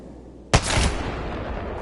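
A single powerful legendary gun in the video game Apex Legends fires one sharp, loud shot, followed by a booming tail and lingering rumble that fades slowly.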